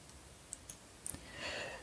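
Several soft computer mouse clicks while working in Grasshopper design software, a few single taps then a quick double click, close but quiet over low room hiss.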